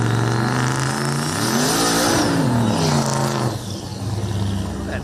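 A loud turbocharged race car engine at a test-and-tune track session roars continuously, revving up and down with rising and falling pitch, close and sustained for the whole stretch.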